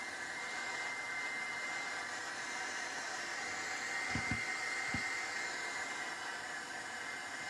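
A hair dryer blows steadily to dry paint on a metal frame, giving a constant even whoosh from start to finish, with a few faint low taps near the end.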